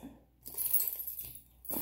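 Keys clink and jingle as they come out of a Dooney and Bourke chestnut saddle crossbody bag, a couple of bright metallic rattles up close with brief quiet between them.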